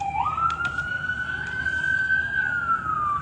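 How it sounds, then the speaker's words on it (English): An emergency vehicle siren wails steadily, a single rising and slowly falling tone held for a few seconds, fairly loud and alone without talk. "What's up with these sirens today?"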